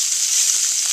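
Tongs-full of steak meat sizzles in a hot pan, a loud, steady, close hiss lasting about a second with no voices.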